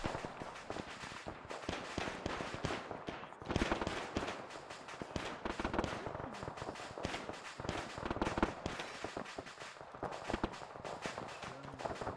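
Rapid, dense gunfire from the Arma 3 military game, a continuous crackle of many shots with scattered footsteps, sustained and loud throughout with no pauses.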